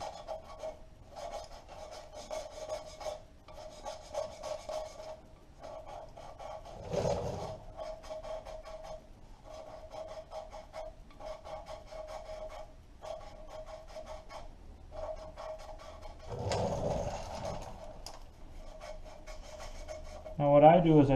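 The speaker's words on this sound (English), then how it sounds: "let's go ahead and lap some of these valves" Valves are lapped by hand into a 1938 Farmall F20 cylinder head, producing repeated gritty rasping strokes in short rhythmic bursts, close and fairly quiet, with a few louder scrapes between.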